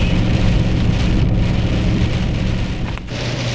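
Steady, loud, dense rain with freezing rain and hail pours continuously during spring weather at a crown-land camp, a broadband hiss that eases slightly near the end, with no talk.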